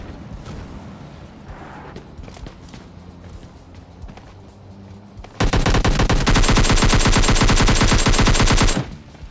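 Sustained automatic gunfire in a battle royale video game erupts loudly after a quieter stretch of scattered shots and game noise, a dense rapid burst lasting about three seconds before cutting off.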